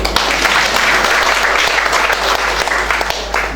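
Steady, loud applause from an audience during an official visit to a public complaints commission office, dense clapping sustained throughout with no pauses.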